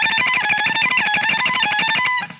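Rapid tremolo picking on an electric guitar runs through a short phrase. The notes are dense and even, played close and loud, and they end with a brief ringing tail.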